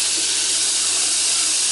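Butter hits hot caramel in a pan and sizzles with a steady, bright hiss that holds evenly throughout, up close and with no voices.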